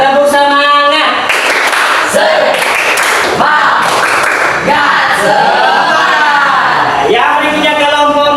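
Primary school class groups perform a rhythmic clap chant together, loud sharp clap bursts in a pattern mixed with children's shouted chanting voices close by in a classroom.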